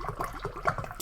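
Boiling water pours into a metal canteen cup, a short close gurgling splash that lasts about a second.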